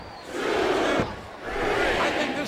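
A wrestling arena crowd in the Smackdown vs RAW 2007 video game roars and chants in two loud sustained swells with a brief dip between.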